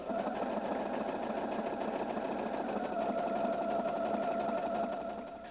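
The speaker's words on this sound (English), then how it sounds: "At the end of the first side, touch reverse and continue sewing." A Husqvarna Viking Designer II sewing machine stitches a buttonhole at a steady, fast, even whir with a rapid needle clatter, loud and alone, before easing off at the end.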